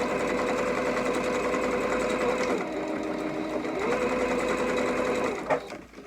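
Sewing machine running steadily as it sews back stitches in fabric, a fast even mechanical whir with a brief slowdown and a pitch shift as the stitching reverses, then stopping with a soft clunk at the end.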